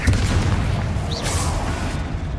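Confringo fire spell blasting in Hogwarts Legacy, a loud booming explosion with a rising magical whoosh partway through, set over a heavy, continuous low rumble of game combat.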